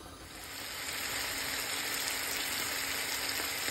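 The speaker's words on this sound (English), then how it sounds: "Mix all the vegetable and fry it" Mixed vegetables for masala noodles fry in a pan over a low flame, a steady hissing sizzle that swells in the first second and then holds evenly, close and fairly quiet with no talking.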